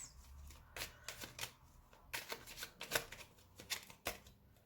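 Sweet Dreams oracle cards are shuffled in a quiet room, with repeated crisp riffling bursts in irregular rhythm, close and clear.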